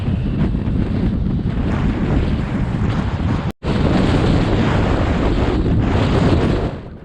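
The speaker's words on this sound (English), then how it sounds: "it was pretty exposed up there. The wind was just getting worse and worse." Strong wind blows across an exposed plateau in the Monadhliath Mountains, a loud, constant buffeting roar on the microphone with a brief dropout in the middle.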